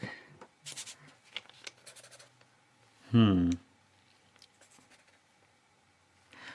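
Colored pencils or markers swatched on scrap paper during a drawing session make soft, close scratching and scribbling strokes in short bursts, broken by one brief burst of a voice.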